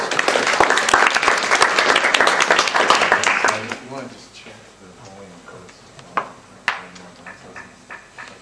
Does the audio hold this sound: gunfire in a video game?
no